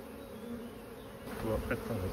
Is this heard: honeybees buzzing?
yes